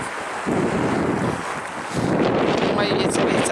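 Steady wind buffeting the microphone in broad gusts, with a brief lull near the start and a stronger push after the midpoint, outdoors with no clear talk.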